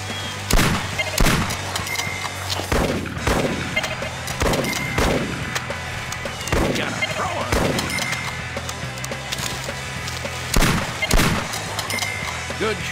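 Rifle shots in Cabela's Monster Buck Hunter crack out one at a time at irregular intervals, sharp and loud with booming tails, over continuous game ambience and some talk.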